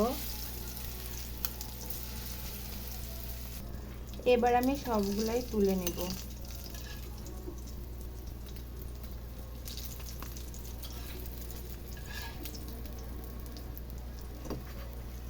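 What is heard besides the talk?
egg chops frying in oil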